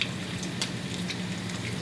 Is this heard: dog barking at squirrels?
no